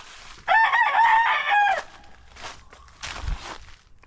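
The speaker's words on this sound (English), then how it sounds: "I have chickens" Backyard chickens with a rooster crowing loudly and close by, followed by scattered clucks and soft rustling footsteps.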